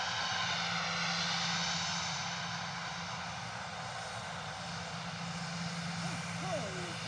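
At London Stansted Airport, an aircraft passes with a loud, steady jet engine roar that fades slightly, while people chat nearby.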